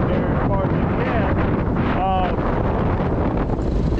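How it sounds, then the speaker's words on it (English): Strong gusting wind buffeting the microphone while working from a 60 ft aerial lift, a loud, continuous low rumble with brief faint voice fragments buried beneath it. "geez, so windy, super windy."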